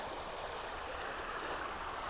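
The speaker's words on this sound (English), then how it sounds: "It's flowing the opposite way to the river from the other side" River water flowing steadily at a bankside spot, a continuous broadband rush of moderate, even loudness with no voices over it.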